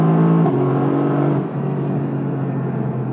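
Mercedes-AMG GT C pulling hard on an open road, its engine note loud and steady as the car accelerates, with a slight drop in intensity partway through and no voices.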